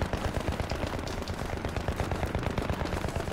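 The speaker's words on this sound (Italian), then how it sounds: "Che comunque i proiettili arrivano." Rapid, dense gunfire from a shooter video game crackles continuously, loud and close, with overlapping shots and no pauses.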